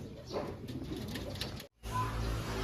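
Racing pigeons arriving at a loft, with soft cooing and a brief flutter as two birds land, over steady low background rumble, broken by a short silent gap.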